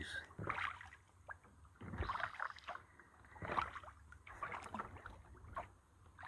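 Canoe or kayak paddle strokes pulling through calm water in a green, overgrown waterway, a steady rhythm of swishing dips roughly every one and a half seconds, close and moderately quiet with no talking.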